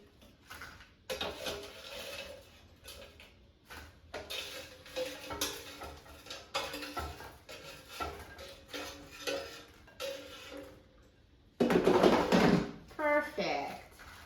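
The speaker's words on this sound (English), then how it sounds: "Let's take it out of the air fryer." Air fryer basket pulled out holding battered, crispy-crusted Trader Joe's shrimp: scattered metallic clatters and scrapes, with a louder rattling burst near the end, under occasional talk.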